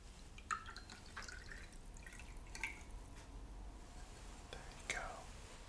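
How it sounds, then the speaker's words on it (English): Liquid trickling into a small glass in a quiet whispered ASMR setting, faint soft drips and gentle pouring with a few brighter clinks, under low whispering. "I'm just going to pour that into this little glass for you"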